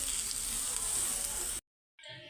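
Curry leaves and chopped coriander hit hot oil in a pan of ivy gourd and egg fry, giving a loud, bright sizzle that cuts off abruptly, then resumes after a short silence.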